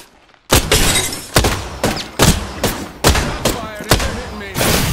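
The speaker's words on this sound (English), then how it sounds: "Shot fired. They're hitting me." Repeated gunshots in the Apex Legends battle royale game, roughly eight loud, sharp bursts in an irregular rhythm, each with a short decaying tail, close and dominant.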